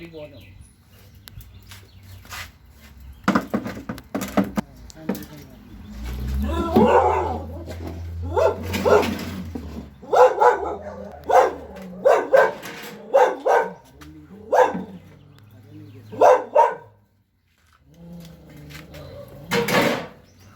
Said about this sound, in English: I don't know who dog is that, but the dog is a nice dog